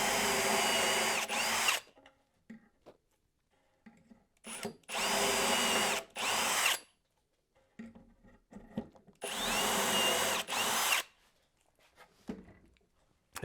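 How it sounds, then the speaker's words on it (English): A power drill bores dowel holes in wood while building a wooden foot locker. It comes as three loud, sustained whirring bursts with quiet handling noises and light knocks between them. "I'm going to drill 2 holes here, and then I'm going to drill another one down here"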